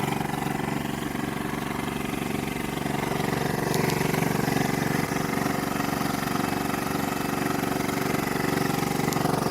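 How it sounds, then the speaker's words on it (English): A boat's outboard motor idles steadily and low, continuously with a constant hum and no pauses, close by and fairly loud throughout, on Lake Superior. "And then the motor just kind of, it's going to keep pushing forward. Motor's running."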